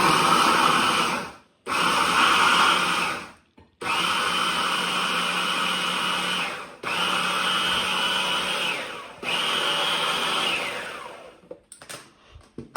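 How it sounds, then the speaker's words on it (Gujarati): An electric chopper crushing cauliflower for gobi paratha, whirring loudly in four bursts of a few seconds each, separated by short pauses, followed by a few faint clatters. "આમ જ ક્રશ કરી નાખીશ ગ્રાઇન્ડરમાં આ પેલું ચોપર છે"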